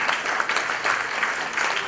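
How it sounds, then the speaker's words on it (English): Audience applause at a Philippine additive manufacturing day event, a steady dense wash of many hands clapping, fairly loud and continuous with no talk over it. "Let's give everybody a round of applause."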